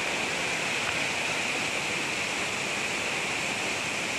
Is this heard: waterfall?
yes